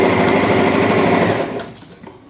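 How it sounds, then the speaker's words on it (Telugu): An Allure DLX sewing machine stitches a saree fall in a loud, fast, steady mechanical whir right up close, then winds down and stops partway through, leaving faint rattles. "మన శారీ ఫాల్ అనేది ఈజీగా కుట్టుకోవచ్చు అండి"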